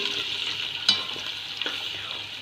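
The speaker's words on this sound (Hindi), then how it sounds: "अब इसको हम भूनने के लिए रख देंगे ताकि ये टमाटर जो है ये अच्छी तरीके से गल जाए।" Tomatoes and mixed vegetables with salt and red chili fry in a pan, giving a bright, continuous sizzle broken by a couple of sharp stirring clicks.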